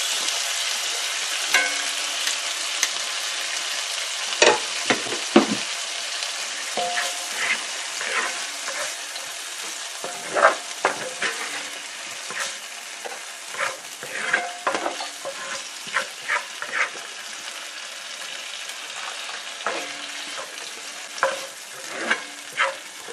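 A turkey steak fries in a pan with lemon juice, giving a steady close sizzle broken by repeated scraping and stirring clatters of a utensil against the pan, with no voices.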